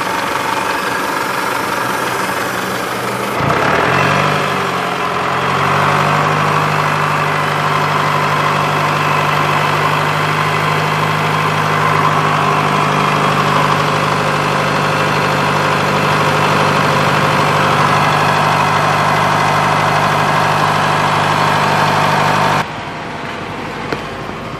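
An Isuzu D-Max pickup engine, running sluggish and blowing black smoke, revs up and holds a steady 1,500 rpm, a loud continuous drone with a vibrating hum before dropping off near the end.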